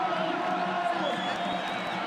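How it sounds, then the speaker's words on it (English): A home crowd at a Saudi Arabia versus Australia World Cup qualifier football match roars in a dense, sustained wash with scattered whoops and shouts, while a commentator talks over it. "He's got a whole home crowd here cheering him on."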